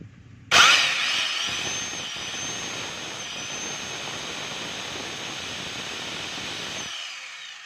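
A DeWalt D25501 rotary hammer, being tested after a fault where it kept stopping, starts abruptly and runs steadily with a loud, high whine and buzzing drive, then cuts off sharply near the end; no talking.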